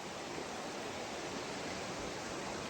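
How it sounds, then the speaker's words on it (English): A creek flows steadily beside an Eastern Sierra campsite, a continuous broadband rush of running water with no breaks, moderately close and alone without voices. "Creek is still here."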